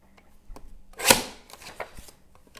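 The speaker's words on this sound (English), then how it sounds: "And I have my little mini trimmer. Just going to slice off 2 inches." A mini paper trimmer slices a strip of cardstock with one crisp, sharp cut, close and moderately loud. A few soft handling clicks and taps come before and after it.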